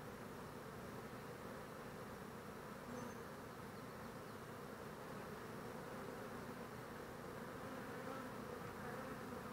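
Honeybees, with a drone among them, buzz around hive frames during an inspection. The buzzing forms a dense, steady, continuous hum that fills the clip without talk.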